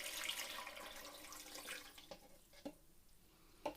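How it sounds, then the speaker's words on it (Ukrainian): About one and a half litres of water goes into a pot of peeled, sliced apples for an apple-strawberry kissel. The faint, close pour splashes and gurgles, then thins out into a few separate drips and splashes. "Додаємо ще півтори літри води."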